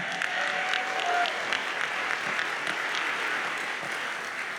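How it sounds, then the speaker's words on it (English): Crowd applause at an honors convocation, a steady even patter of many hands clapping at moderate distance, holding level throughout with a brief faint vocal tone early on. "we're going to applaud him"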